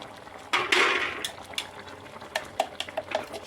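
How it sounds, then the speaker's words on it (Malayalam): Ground coconut paste poured into a simmering Kerala-style kalan curry with cooked vegetable pieces: a wet splashing rush into the pot, then softer bubbling with light clinks of a utensil against the vessel, close and moderately quiet. "ഇനി നമുക്ക് തേങ്ങ അരച്ചത് ഒഴിച്ചു കൊടുക്കാം"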